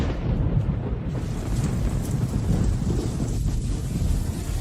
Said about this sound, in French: C'est une vraie tempête.